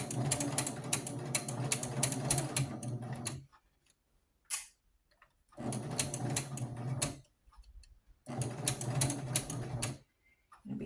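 A sewing machine back-stitches and sews a basting stitch through scrap fabric for a doll quilt in three steady bursts of rapid ticking, broken by near-silent pauses with a few single clicks.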